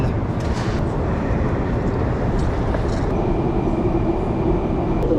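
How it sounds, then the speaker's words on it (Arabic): Moscow metro train running underground, a loud steady low rumble and rolling roar of wheels on rails that stays constant and close throughout, with no talk. "الان ندخل المترو ان شاء الله"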